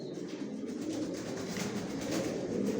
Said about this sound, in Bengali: এখনও গিরিবাজ কবুতর পালি, কিছু চিলা পালি, এগুলো অনেক পুরাতন চিলা